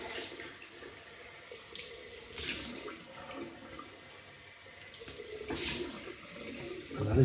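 Cold water runs from a bathroom tap for a shave rinse, a steady moderate hiss with a few louder splashing surges as hands and face meet the stream, no talking over it.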